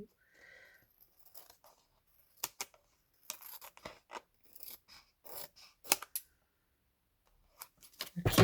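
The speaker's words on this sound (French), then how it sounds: "Là, je vais reprendre le ciseau." Scissors snip through paper while a bookmark is trimmed, with scattered short crisp cuts and brief pauses between bursts, close and fairly quiet.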